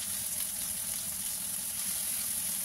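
Pork and dried mushrooms sizzle in a hot pan after a splash of Chinese wine, a constant, even frying hiss with no breaks and no voices.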